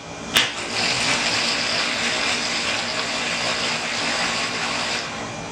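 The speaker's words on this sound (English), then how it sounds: "And then we're just going to blend that up for another second." A blender whirs loudly and steadily as it mixes Dutch baby batter with flour, starting abruptly with a sharp click and running continuously close by with no speech.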